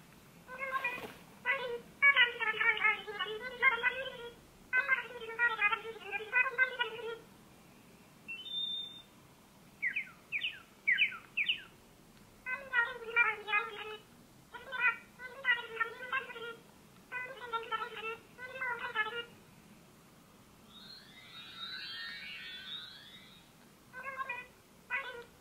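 Build-a-Bear plush toy playing Animal Crossing character sound clips, a run of short chirpy babbling bursts and a few beeps separated by brief pauses, muffled and faint through the stuffing.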